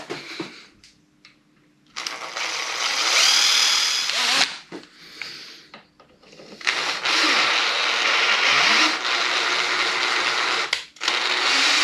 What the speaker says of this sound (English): we're going to drill a little hole in that metal bracket and we're going to mount it on there